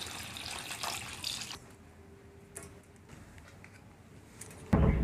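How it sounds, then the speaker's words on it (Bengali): Cold tap water runs over boiled duck eggs for peeling, a brief hissing stream at first that drops to soft splashes and clinks before a sudden louder rush. "এবার এতে আমি একটু ঠান্ডা জল দিয়ে ডিমটা ছাড়িয়ে নেব।"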